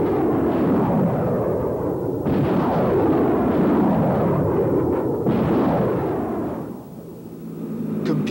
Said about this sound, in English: This combination permits the launch vehicle to accurately aim and fire its powerful salvo of rockets entirely automatically.